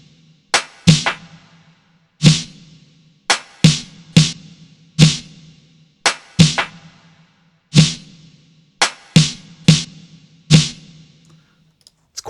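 Sparse programmed drum parts in Logic Pro with reversed snare layers, sharp isolated hits in pairs and singles with short decays and gaps of silence between them, close and dry with no talking.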